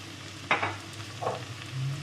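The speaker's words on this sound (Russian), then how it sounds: "Даю обжариться моркови вместе с луком и томатной пастой" Carrots frying with onion and tomato paste in a pan, a low, soft sizzle with a couple of brief stirring scrapes, close but quiet and without speech.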